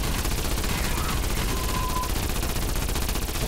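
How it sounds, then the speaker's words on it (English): Fire cannons firing in Call of Duty Cold War Zombies, a dense, continuous barrage of loud rapid blasts with no gaps for the full few seconds. "shooting fucking fire cannons"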